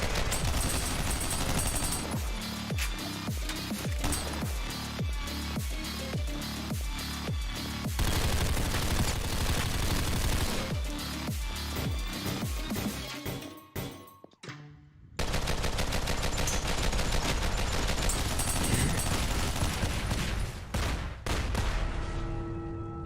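Rapid SMG fire in the top-down roguelike shooter OTXO, loud dense bursts of automatic shots with a brief break midway, then continuous gunfire over game music, with no talking.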